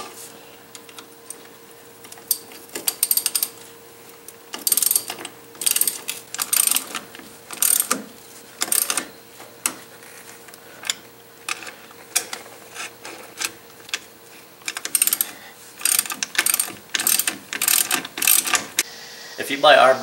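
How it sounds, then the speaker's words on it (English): A ratchet socket wrench clicks in repeated short bursts while tightening the nut on a ball joint bolt of a two-wheel-drive Dodge Dakota, the close rapid ratcheting broken by brief pauses and handling noises. "Pull the bolt with the wrench and tighten the nut with the socket."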